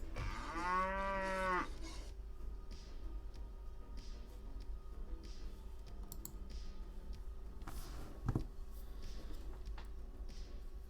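A cow in a video game lets out one loud, drawn-out moo at the start, followed by quiet keyboard typing and clicking, with no talk.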